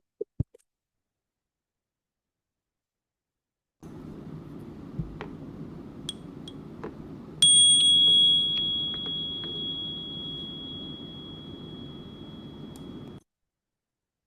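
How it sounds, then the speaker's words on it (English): A single meditation bell is struck once and rings out in a clear, sustained tone that slowly fades over several seconds above a soft background hiss in a quiet room. "As you take on that posture of strength, I'm going to invite the bell."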